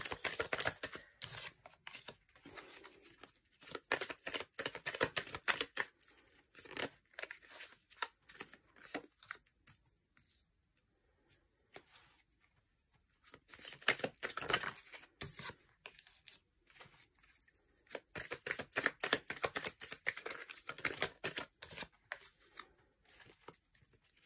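Tarot cards being drawn from a deck one after another, quiet papery shuffling, slides and flicks coming in bursts with short pauses between them, close and faint.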